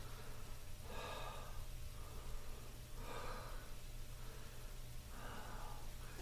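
Three slow, deep breaths during a yoga-style exercise session, each a soft airy inhale-exhale rising and fading about two seconds apart, close and quiet over a low steady hum.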